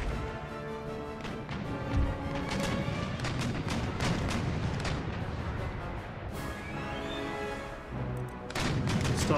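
Naval cannon broadsides in Empire: Total War pound a bomb ketch, a dense, continuous barrage of overlapping booms and crackling blasts with crashing debris, loud and sustained throughout.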